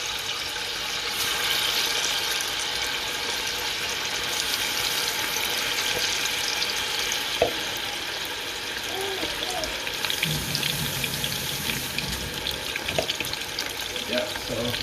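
Soaked anchovies and squid dropped into hot oil, a dense continuous sizzle and crackle that swells in spurts, close and loud, with faint kitchen clatter and a voice briefly underneath.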